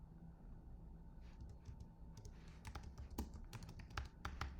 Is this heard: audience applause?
no